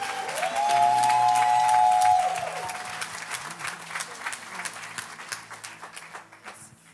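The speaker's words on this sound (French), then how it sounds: "Est-ce que vous pouvez encore l'applaudir," A church congregation applauds during a baptism service, with a burst of clapping over a sustained keyboard tone that thins into scattered claps and crowd murmur.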